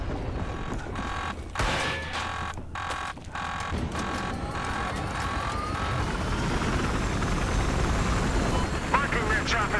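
A helicopter engine in a video game whines and churns as it tries to start, with rotor noise rising into a steady loud drone that fills the whole stretch.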